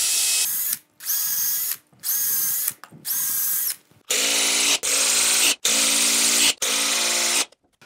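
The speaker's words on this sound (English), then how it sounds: "And I'll pre-drill a few more." A power drill pre-drills screw holes for a faceplate on a wooden woodturning bowl blank, whirring in seven short bursts of half a second to a second, the later bursts louder and higher-pitched.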